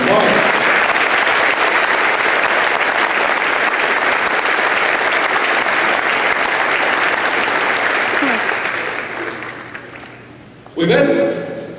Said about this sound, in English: Let's join in a round of applause for Mark.